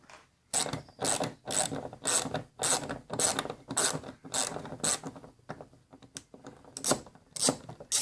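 A ratchet clicks in rapid repeated bursts while backing out Torx 30 screws on a VW Polo IV front bumper, a dozen or so close, crisp pawl runs separated by brief pauses.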